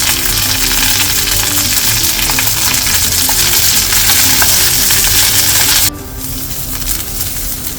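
Mustard seeds, curry leaves and dried red chillies fry loudly in hot coconut oil with a dense, steady sizzle and crackle, which drops to a softer hiss near the end.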